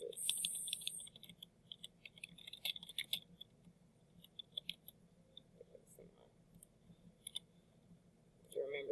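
Soft clicking of a computer keyboard comes in short irregular bursts, close and quiet, with faint murmuring in places.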